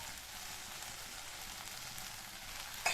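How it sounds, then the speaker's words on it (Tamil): Tomatoes and mint leaves sauté in a pan for a mint chutney, giving a steady, soft sizzle and crackle close by with no talk. "புதினாவை சேர்த்துட்டு நல்லா இந்த மாதிரி பரட்டி விட்டுருங்க."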